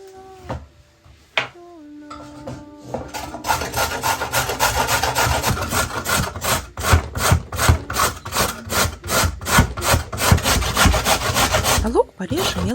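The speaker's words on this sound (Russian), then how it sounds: "Морковку потру на терку." Rhythmic rasping strokes of a carrot on a grater scrape back and forth steadily, close and loud, after a few light clinks at the start.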